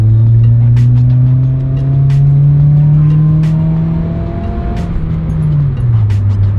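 An Acura RSX with an HKS Hi-Power exhaust and Injen intake roars loudly as the engine accelerates, the low drone climbing steadily in pitch before dropping back as it shifts.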